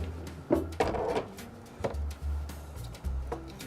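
A mahogany-fitted drawer of an antique painting table slides open with a few wooden knocks and a low rumbling glide, close and moderately loud.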